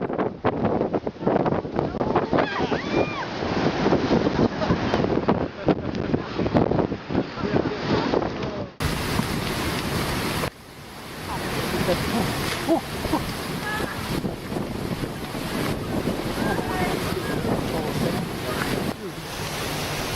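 Ocean waves crash and surge onto a shore in a continuous, loud roar with heavy wind buffeting the microphone. The sound cuts off briefly midway before the surf rises again.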